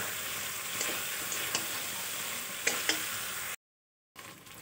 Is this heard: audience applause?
no